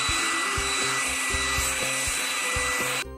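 A toy hair dryer blowing a steady whirring rush of air with a faint rhythmic clicking beneath, close and continuous, cutting off abruptly at the end.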